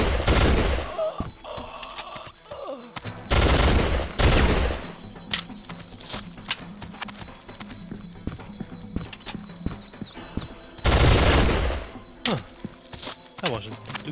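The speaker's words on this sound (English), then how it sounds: "the machine gun sucks. Short burst is okay though." Soldier of Fortune 2 machine gun firing in loud, dense bursts, with two long sprays and shorter bursts of rapid shots among lighter game sounds.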